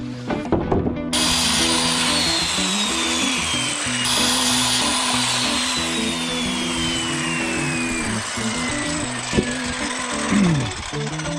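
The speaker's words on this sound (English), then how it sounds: "let's get to cutting some boards" A power tool cuts wooden boards for a shed workshop build, a loud, continuous grinding whine that starts abruptly and runs unbroken for several seconds, its pitch shifting slowly as the blade works through the wood.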